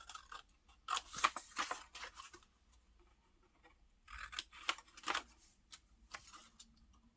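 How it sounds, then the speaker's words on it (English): Scissors snipping through a page torn from a book, two short bursts of crisp paper cuts separated by a pause, close and fairly quiet with no speech. "I'm just going to cut it quickly so you can see."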